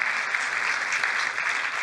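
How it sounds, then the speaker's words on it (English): A crowd applauds the Shriners Hospital for Children team from Chicago at a Kalamazoo-area event, with steady, dense clapping filling the whole stretch at a fairly close, even level. "go ahead, give a round of applause."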